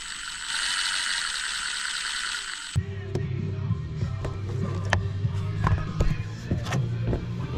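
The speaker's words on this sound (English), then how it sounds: "I'm going to twist them together using my impact" An impact driver twisting wires together during a flush-mount light install on a 2021 Toyota 4Runner, heard as a rapid ratcheting clatter with sharp metallic taps after a steady high whine; no talk.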